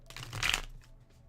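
A quick riffle of cards being shuffled, a short papery flutter lasting about half a second, close by, followed by faint quieter rustling.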